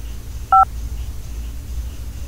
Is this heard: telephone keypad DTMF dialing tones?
yes